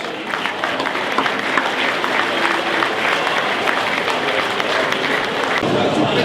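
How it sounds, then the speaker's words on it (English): A presentation-night audience at Spennymoor Town gives a sustained round of applause for the Academy players, a dense even clatter of many hands lasting throughout, with some voices in the hall. "Once again, please, a big round of applause for all the Academy players."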